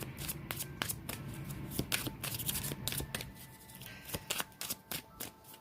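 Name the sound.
shuffling a deck of tarot cards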